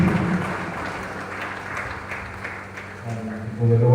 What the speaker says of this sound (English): Another round of applause for Hannah and his team.